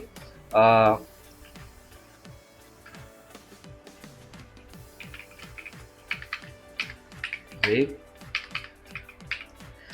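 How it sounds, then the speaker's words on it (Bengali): Command typed on a computer keyboard into a Kali Linux terminal: a rapid, steady run of close, light key clicks lasting the whole span, with someone speaking briefly at the start and again near the end. "তো আসেন আমরা কমান্ড লিখি"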